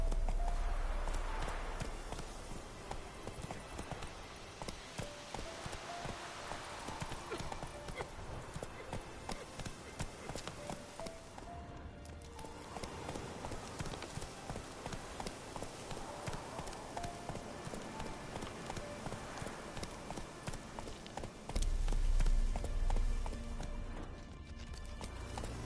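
A horse gallops in The Witcher video game, its rhythmic clip-clop hoofbeats running steadily throughout alongside game music, with a voice speaking at times.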